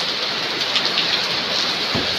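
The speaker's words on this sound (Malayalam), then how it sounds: "കുഴപ്പമില്ലാത്തൊരു മഴ പെയ്യുന്നുണ്ട് കേട്ടോ" Steady summer rain with wind pours down in an open outdoor setting, a dense continuous hiss of falling drops close around and alone, with no voices.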